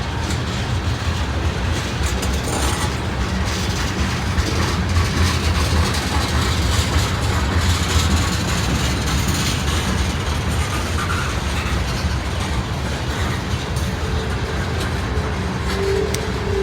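A freight train rolls steadily past, hauling brand new tank cars loaded with anhydrous ammonia, its heavy low rumble and rhythmic clickety-clack of wheels on rails continuous and fairly close throughout, with no voices.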